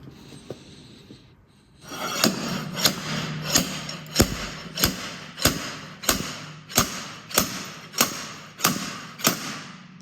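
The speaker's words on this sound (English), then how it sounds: "what we need to do is use our slide hammer like this to get it out." After a brief quiet stretch, a slide hammer strikes again and again pulling an Alfa Romeo axle part, a dozen or so sharp metallic thuds in a steady rhythm.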